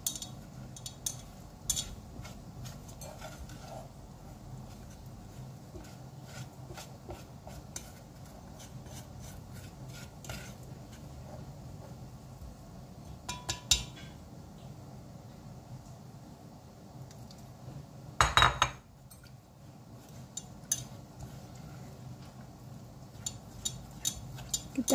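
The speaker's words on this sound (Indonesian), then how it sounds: "Kita aduk-aduk sampai licin ya adonannya" Batter for pisang ijo being stirred with coconut milk poured in, a steady soft scraping and rubbing of a utensil against a bowl, with brief louder clatters now and then.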